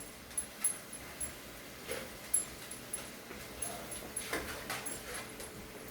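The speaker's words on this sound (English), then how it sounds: "That's Namri, our dog, guys" Dog whimpering in a kitchen during cooking, as soft, faint whines and yips over quiet background noise, with a few brief peaks spread across the stretch.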